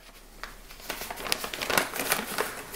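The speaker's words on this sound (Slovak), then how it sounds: "Takéto obyčajné papierové kávové filtre." Ordinary paper coffee filters are handled up close, giving crisp crinkling and rustling in irregular bursts that grow busier over about three seconds, with no talking.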